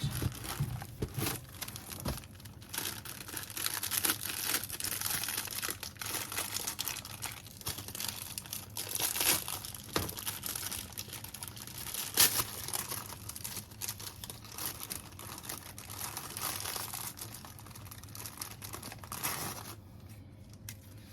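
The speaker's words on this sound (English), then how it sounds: "We're going to start by adding graham crackers." Graham crackers rustle and crinkle as they are laid out on a baking mat for s'mores cookies, a steady run of soft close-up packaging crackles and light crunches with no talking.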